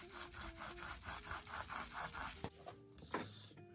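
Worn suspension top hat from a Porsche 968 being moved by hand, giving a rhythmic dry scraping and grinding at close range, about eight strokes, then a few knocks and clicks.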